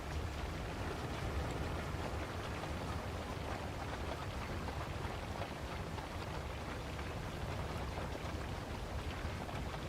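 Steady rain pours down without a break in the driving game Roadcraft, a dense, even hiss that fills the whole scene at constant loudness with no voices over it.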